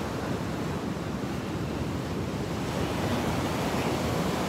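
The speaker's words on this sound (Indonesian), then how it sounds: "nah ombaknya tenang guys" Calm, gentle sea waves wash steadily onto a beach on a morning shore, a continuous soft surf roar with light wind noise and no distinct breaking crashes.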